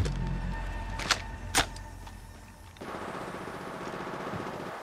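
Gunfire in Apex Legends sounds as two sharp, loud bursts about half a second apart, followed by quieter game ambience and rustling movement, with no talk.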